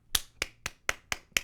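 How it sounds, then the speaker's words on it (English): Six sharp hand claps land about a quarter second apart in an even rhythm, each crisp and close, with quiet gaps between and no talk. "I clap it up for that on my own"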